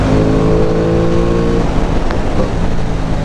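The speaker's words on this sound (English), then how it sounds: "I'm shifting, I'm rev matching, it's got a blipper." Aprilia Tuono 660 Factory motorcycle engine revving hard with harmonic engine tones, then a shift with a quick blip as the pitch drops and rises again, loud and close with wind roar.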